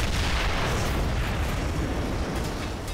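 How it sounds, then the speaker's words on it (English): An explosion in Ghostbusters: The Video Game Remastered roars as a loud, dense rumble that fills the whole stretch and eases only slightly toward the end, with no talking. "Explosion."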